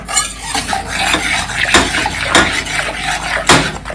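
Roasted flour being stirred in a hot kadai, a spoon scraping and clinking against the metal pan in uneven strokes with sharper knocks, close and fairly loud, with no talking.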